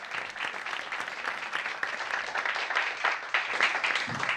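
A comedy club audience applauds comedian Freddie Goodman after his set, a steady, dense wash of clapping that holds throughout without letting up.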